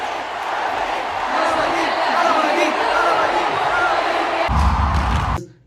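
A large crowd at a live event in Malaysia roars and cheers continuously, loud and dense, with a heavier burst of noise near the end before it cuts off.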